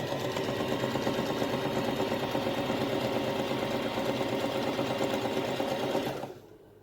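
Sewing machine stitching fabric for a scrunchie-style hair accessory, a steady close whirring run of rapid needle strokes that stops abruptly near the end, with no talking.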